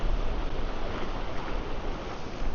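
Ocean surf on a Galveston beach at sunrise, a steady, close rush of breaking waves with some wind buffeting the microphone.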